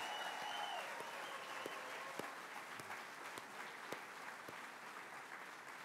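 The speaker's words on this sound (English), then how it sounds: "please join me in a round of applause" An audience at the Cherokee Nation State of the Nation 2022 gives a round of applause for council members, even continuous clapping with a few sharper individual claps, heard at moderate distance.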